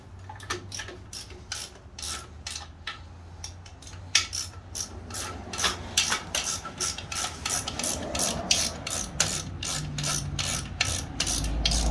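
A ratchet wrench loosens torque converter bolts on a HEMI engine, giving rapid, crisp clicking in quick bursts with short pauses, close up and steady, growing somewhat louder and busier toward the end.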